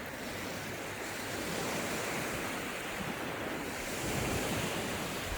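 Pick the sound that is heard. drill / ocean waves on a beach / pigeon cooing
ocean waves on a beach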